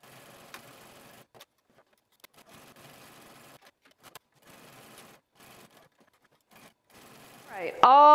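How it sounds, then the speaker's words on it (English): A sewing machine stitches fabric in short bursts of rapid mechanical whirring separated by quiet pauses, followed at the end by a loud rising tonal sound. "my sewing machine really wanted to eat this fabric"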